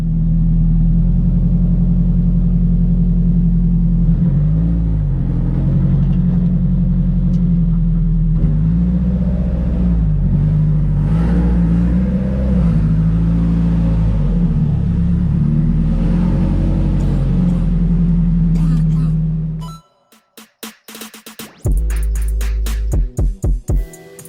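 Close-up idling and revving of a Nissan 240SX S14 engine as the car is moved, a loud steady drone with rising and falling pitch swells, then cutting off into a few clunks and clicks.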